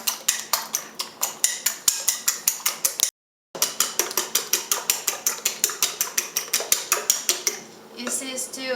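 Eggs beaten with a fork or chopsticks in a bowl for a Chinese tomato and egg dish, a fast rhythmic clinking against the dish that pauses briefly, then carries on and slows at the end.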